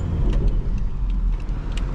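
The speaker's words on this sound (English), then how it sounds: "just driving around, seeing how the car feels, how it handles" Car on BMW coilovers driving on the road, a close, steady low engine and tire rumble inside the cabin with faint light rattles over bumps.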